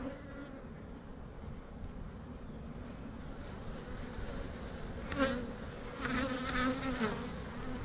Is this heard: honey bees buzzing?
yes